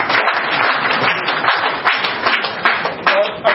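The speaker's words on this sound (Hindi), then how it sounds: "अजय चंद्राकर जी का इसलिए स्वागत करना चाहता हूँ मैं तालियों से" Applause from an audience welcoming guests at a cartoon festival, a loud, steady wash of many hands clapping that carries on for several seconds.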